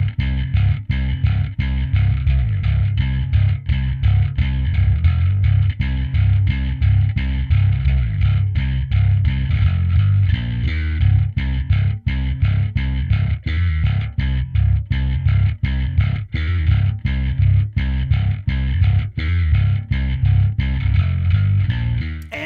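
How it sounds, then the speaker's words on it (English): Isolated bass guitar fitted with EMG Frank Bello signature pickups, recorded direct through a Darkglass Alpha Omega Photon, playing a steady driving riff of fast, evenly picked notes with a gritty distorted, heavy low-end tone, loud and alone. "the isolated bass from that recording sounds like this"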